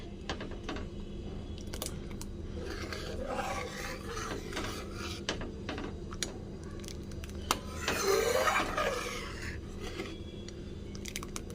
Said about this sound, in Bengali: এবার নাড়তে থাকবো না হলে দলা পেকে যাবে